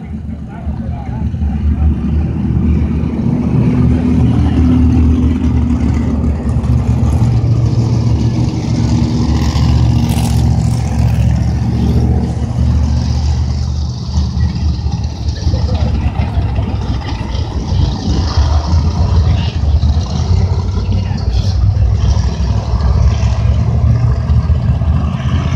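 350 Super Modified race cars roaring around Hudson International Speedway, a loud continuous engine drone that swells and fades as the pack passes, with a race announcer talking over it throughout.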